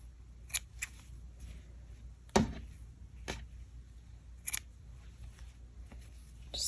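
Scissors snip yarn tails on a mosaic crochet afghan, a few quiet isolated clicks and one sharper cut near the middle, close but faint against a very quiet room.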